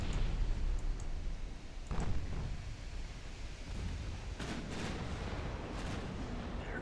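A naval artillery salvo in the warship game Ultimate Admiral Dreadnoughts rumbles as deep, heavy booms over a constant low roar, with a few sharper impacts near the end; dense and muffled, no voices.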